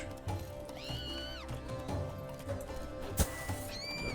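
Roach, the horse in a video game, lets out several loud whinnies over a continuous background of gameplay sound and hoofbeats, with a sharp thump near the end.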